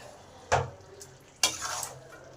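Chicken rezala with kewra water gets stirred in a pan: two distinct scraping, clattering strokes of a spoon against metal, each trailing off into a faint simmering hiss, close by with quiet gaps between.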